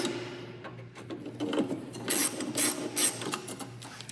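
Small screws being driven in by hand while a CB6 conversion kit is installed over a switch box, giving a steady rasping, ratcheting scrape with repeated turning strokes, fairly close and moderately loud, with no talking.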